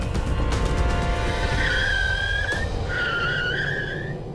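A car brakes hard from speed during a test run, tires squealing in two drawn-out skids over a constant road and engine roar, recorded from close by without talk.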